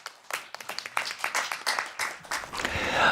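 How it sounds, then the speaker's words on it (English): Conference audience clapping at an international development gathering, a burst of applause from a hall that swells toward the end, heard alone at moderate distance. "So please express our gratitude with a big round of applause"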